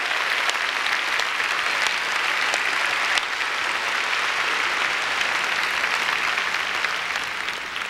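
Sustained, dense applause from an audience at a 1994 pageant, cheering on the choir's backstage crew. The clapping stays close and steady at full strength for the whole stretch, easing only slightly at the very end.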